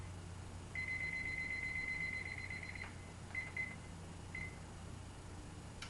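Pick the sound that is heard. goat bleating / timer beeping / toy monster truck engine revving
timer beeping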